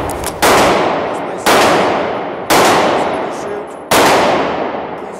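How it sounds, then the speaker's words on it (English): Four loud, evenly spaced .380 pistol shots ring out at a shooting range, each a sharp crack followed by a long decaying echo, with no talk between them. "He's going to shoot the 380 today."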